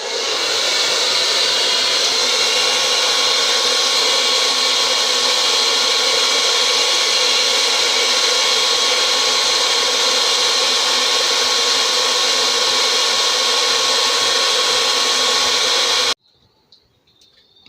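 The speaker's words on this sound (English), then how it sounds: "I'm going to get the hairdryer straight out here" A hair dryer blows steadily and loud for about sixteen seconds, a constant broadband whoosh with a faint tonal whine, used on a car headlight while tint film is applied, then cuts off abruptly into near silence.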